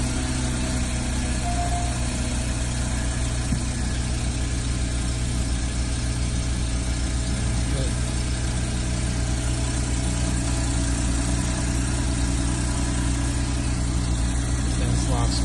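A 2014 Porsche Boxster's engine idles steadily after a key start, a continuous mid-pitched hum with a faint vibration that stays level throughout, close by and without talk.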